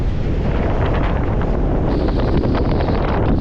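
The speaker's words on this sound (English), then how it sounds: "My God, the wind!" Strong wind buffets the microphone high in the Tajikistan mountains near the Afghan border, a loud, steady roaring rush that fills the whole clip with no talking.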